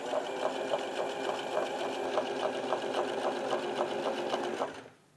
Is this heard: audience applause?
no